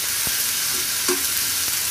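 Goat liver frying with a spoonful of garlic ginger paste in a pan, a steady loud sizzle with a few scraping stirs of a spoon, close up and no talk.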